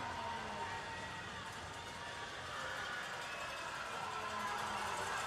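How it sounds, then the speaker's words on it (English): At a women's ice hockey national championship consolation game between UBC and Saskatchewan, an arena crowd produces a steady, distant wash of cheering and noise. It sounds faint and continuous, with no breaks. "can you hear that crowd?"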